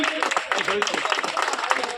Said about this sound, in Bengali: সবাই একটু হাততালি দেবেন